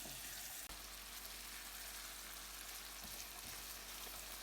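Tadka of spices sizzling in hot oil for a sour chana dal, a steady dense hiss of frying that fills the clip continuously, close and even, with one faint click early on and no talking.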